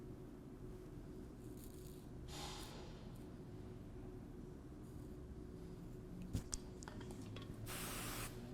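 Several short, soft bursts of hair spray hiss, separated by pauses, over a low steady hum, with a faint tap midway.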